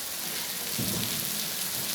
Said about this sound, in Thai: ฝนตกหน้าดูเลยปอกแป๊กปอกแป๊กปอกแป๊กปอกแป๊ก